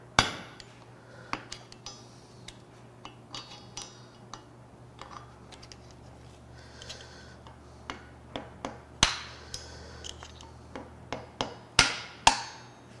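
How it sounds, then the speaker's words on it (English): A chisel driver struck with a hammer to break the seal on a Toyota Tundra V35A twin-turbo V6 engine part, giving a series of sharp metallic taps at an irregular pace that grow louder and quicker toward the end over a low hum. "Use my old chisel driver here."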